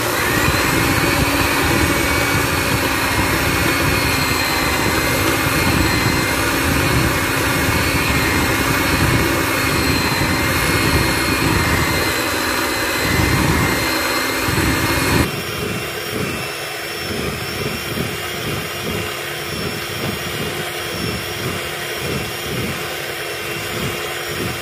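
An electric mixer whips cake batter of eggs, sugar and vanilla until pale with a loud, continuous whirring drone. Partway through, the drone drops to a slightly quieter, rougher level.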